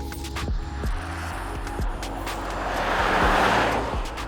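Mercedes-Benz G63 driving on country roads in the Trough of Bowland, its engine note climbing and dropping through gear changes, with a broad rush of road and wind noise swelling toward the end.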